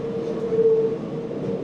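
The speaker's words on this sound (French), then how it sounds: "Pour se rendre à son foyer, Frédéric doit prendre le RER" Steady rumbling drone of an RER commuter train carriage in motion, with a faint tonal whine running through it, loud and continuous with no voices.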